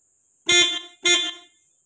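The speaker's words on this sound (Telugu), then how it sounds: "నేను హార్న్ కొడతాను" A Renault Triber's horn, being checked for a malfunction, gives two short, loud honks close by, separated by a brief pause, in otherwise quiet surroundings.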